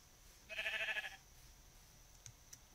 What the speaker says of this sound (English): Black sheep.